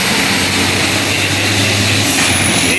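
A truck engine labours loudly on a hill in Jamaica, a steady heavy drone with a low tone that drops away as the gear changes.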